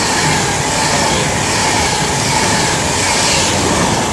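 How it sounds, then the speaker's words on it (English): An Avanti West Coast class 390 Pendolino electric train passing at Nuneaton, a loud, close, continuous roar of wheels and rushing air filling the whole stretch with no voices. "And that is another diverted Avanti West Coast 390 Pendolino in the form of 390-123,"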